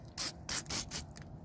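De-icer spray is applied to Jeep door locks in icy weather, a few short hissing bursts of aerosol spray in quick succession, close and alone.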